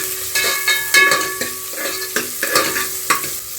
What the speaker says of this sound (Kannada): ಈರುಳ್ಳಿ ಒಂದು ಸ್ವಲ್ಪ ಕಲರ್ ಚೇಂಜ್ ಆಗಬೇಕು, ಅಲ್ಲಿಗಂಟ ಫ್ರೈ ಮಾಡ್ಕೊತೀನಿ.